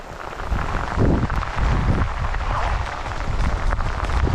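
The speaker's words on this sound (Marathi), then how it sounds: "एकदम जोराचा पाऊस आला मित्रांनो" Heavy rain pours down in a dense, steady roar, loud and continuous, with gusts of wind mixed in and no voices.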